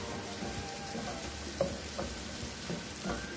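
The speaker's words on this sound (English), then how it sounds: "Mix it around really well and allow it to saute for a couple minutes." Seasonings sauté in melted margarine in a pan with a steady, soft sizzle throughout, broken by a few light clicks of stirring.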